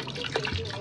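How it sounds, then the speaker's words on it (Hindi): Water is poured into a pressure cooker pot holding lentils and chicken, a soft close trickle and splash lasting under a second. "चलो अब इसमें डाल देती हूँ मैं पानी"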